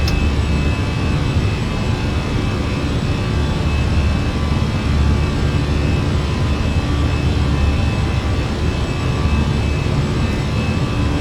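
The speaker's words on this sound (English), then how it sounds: "I'm going to manually fly the airplane until we make the turn." Airliner jet engines roar at climb thrust in Flight Simulator 2024 on a Druk Air flight from Kathmandu to Paro, a steady, loud, broadband cockpit drone that holds unchanged throughout with no talk.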